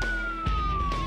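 A police car siren wails with a steady falling tone during a car chase as a car breaks through a road block, loud and close throughout the short burst.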